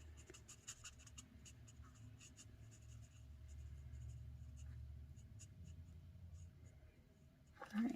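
A marker colors a Stampin' Up! Easter bunny card with light and dark shades, giving a steady soft scratching and scribbling that runs throughout, close and quiet.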